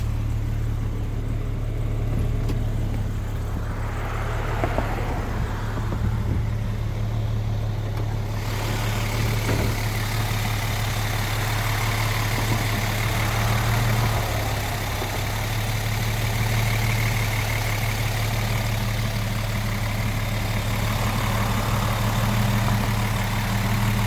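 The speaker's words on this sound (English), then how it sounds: "The exhaust resonation sound is nice." A 1971 Mercedes-Benz 280SE engine idles steadily, with a deep, even exhaust resonance and a constant low rumble heard close up for the whole stretch without talk.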